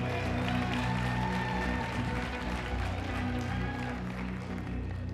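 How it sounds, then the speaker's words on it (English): A pageant audience at a Miss Universe Malta final applauding steadily, a dense wash of clapping that holds for several seconds under amplified background music, with no talking. "Round of applause, ladies and gentlemen."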